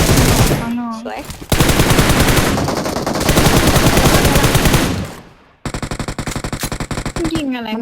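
Rapid automatic gunfire from a PUBG match rattles loud and close in long sustained bursts, then in separate short volleys, with a voice speaking briefly at the start and end.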